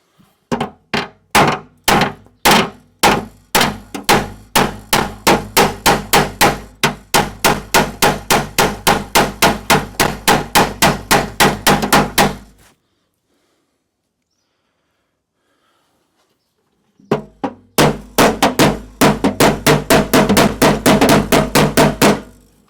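A hammer strikes a car body panel during amateur bodywork repairs, giving a long run of sharp metallic blows in a steady rhythm, then several seconds of silence before another fast series of hits. The blows are loud and close, with no talking.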